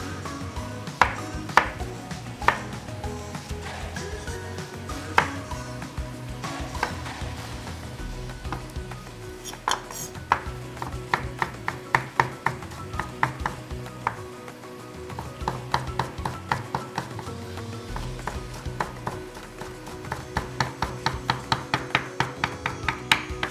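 Knife chopping tomato, red onion and jalapeno on a board for pico de gallo, a steady run of close, crisp taps with scattered louder strikes over a busy kitchen background.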